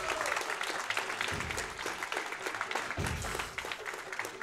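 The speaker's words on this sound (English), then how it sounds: "Can we get some cheering for Senpai?" An audience at a speedrun marathon claps and cheers in a dense, sustained wave that holds steady for several seconds, with a voice faintly mixed in underneath.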